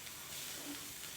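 Onions hit a little oil in a pan and give a soft, steady sizzling hiss, faint and brief, with no talking over it.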